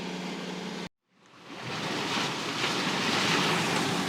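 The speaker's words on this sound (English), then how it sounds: "Here we are, sailing along." A sailboat under sail with no engine running, steady rushing water and wind noise filling the scene, broken by a brief dropout before the continuous wash returns.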